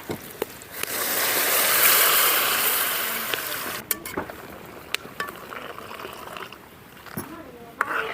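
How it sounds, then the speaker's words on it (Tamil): Milk pours into a pan for fig laddu, a steady liquid stream rising and fading over several seconds at moderate level, with light clinks and a voice speaking afterward. "ஒரு லிட்டர் பால் ஊத்து"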